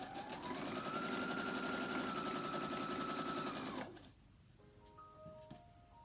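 Sewing machine stitching quilt pieces, a fast steady rattling hum for about four seconds before stopping, followed by quiet handling noise.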